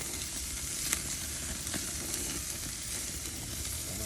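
Ribeye steak sizzling on an outdoor grill after a drizzle of olive oil, a steady broadband hiss of fat crackling with a few sharper pops, close and even throughout with no talking.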